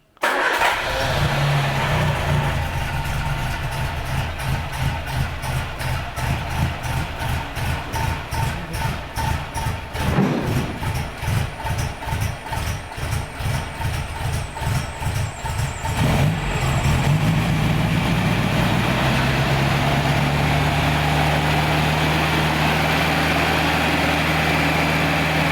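An MGA sports car engine cranks with rapid rhythmic starter pulses and choked coughs, briefly catches, then settles into a steady, loud idle close by.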